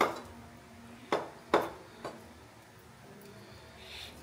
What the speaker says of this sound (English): Smash it with a flat knife like that.